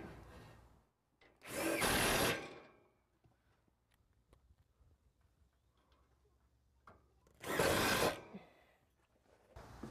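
A power drill drives screws through a stair carrier into a wooden joist in two separate bursts, each a loud, close whir lasting under a second, with quiet handling clicks between them.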